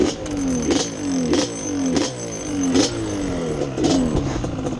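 Car engine idling and revving repeatedly in a rhythmic cycle, each rev swelling and dropping about every half second, close and loud with a rattly mechanical tone.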